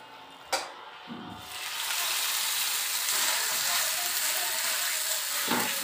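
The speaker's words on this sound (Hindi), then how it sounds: "और इसे मैं अब तवे पे डालूंगी और पकाऊंगी।" Batter lands on a hot tawa with a soft thump, then a steady, close hiss of sizzling swells and holds without letting up.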